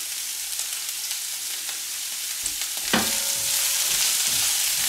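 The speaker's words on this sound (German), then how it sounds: "Nehmen wir den klein geschnittenen Kohl und braten wir kurz an." Chopped cabbage, salted, is briefly fried in a pan for cabbage rolls. It gives a steady close sizzle that swells after a sharp clatter partway through and then continues, with no talking.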